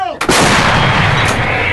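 A single massive blast from an M109A3GN Paladin self-propelled howitzer booms out close by, its roar sustained and rolling with a heavy low rumble.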